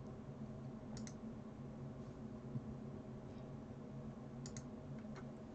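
Mouse clicks on a computer, a few sharp isolated clicks heard around one second and again near four and a half seconds over a steady background hiss in a quiet room.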